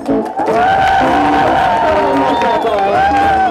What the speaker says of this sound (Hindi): हर एक कलाकार के लिए तालियां जो यहाँ पर मौजूद है।